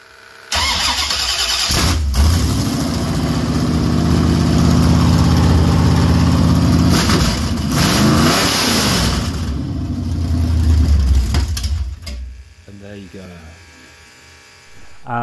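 A project car's engine cranks, catches and settles into a loud rough idle with revs rising and falling, then cuts off; a voice is heard briefly near the end.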